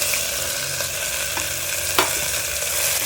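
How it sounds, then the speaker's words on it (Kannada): Coriander and mint leaves fry in a pan with a constant close sizzle, broken by a few soft stirring clinks and scrapes, no voices. "ಸ್ವಲ್ಪ ಲೈಟಾಗಿ ಫ್ರೈ ಮಾಡ್ಕೊಳಮ್ಮಿ."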